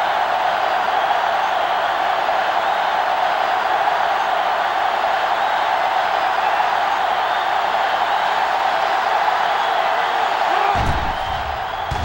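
A stadium crowd in the NCAA Football 07 video game roars steadily and loudly for nearly the whole stretch, a dense wash of cheering and noise that drops off abruptly near the end.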